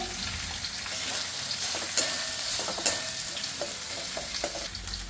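Diced tomato drops into ginger frying in hot oil in a home kitchen, giving a steady close sizzle with a few sharp clinks and stirring scrapes.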